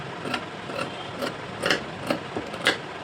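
A sewing machine stitches a blouse in short repeated bursts, about six quick runs at a steady rhythm, close and clear with mechanical whirring between.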